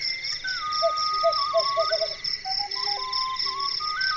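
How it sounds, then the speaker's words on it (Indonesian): Crickets and other night creatures chirp in a quiet nighttime setting, with repeated short tonal calls over a steady high insect trill, fairly close and alone without speech. "Ada memang terdengar celoteh jangkrik dan binatang malam di sekeliling."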